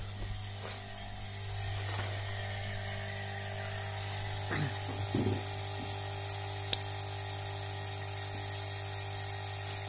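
A large 5 kW FH4525Y air compressor runs steadily in a garage, a constant mechanical hum with a strong low drone and a few faint clicks and knocks over it.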